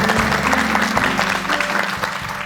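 Studio audience on a Korean morning talk show clapping to welcome a guest, a brief burst of steady applause with a low hum beneath.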